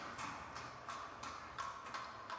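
Horses outside an old guard barracks turned fortress clip-clop steadily, a regular series of muffled hoof strikes heard at a distance over a constant background hum.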